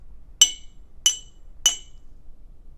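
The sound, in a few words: tapping a glass bottle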